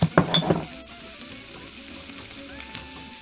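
Vegetables frying in a pan with scrambled tofu give a steady, fairly quiet sizzle, with a few louder stirring clatters at the start.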